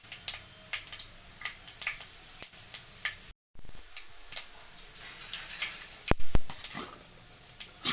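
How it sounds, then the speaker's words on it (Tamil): Mustard seeds splutter in hot oil for a Tamil kara kuzhambu, a faint frying hiss dotted with sharp little pops and crackles that grow busier toward the end. "கடுகு பொரிஞ்சது"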